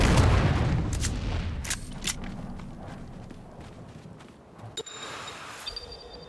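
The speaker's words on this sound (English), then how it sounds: "our friend coming from above and throwing out one more grenade" A grenade blast in the survival game Dune Awakening opens loud and heavy, then trails off into battle noise and scattered footsteps, with a few sharp cracks near the end.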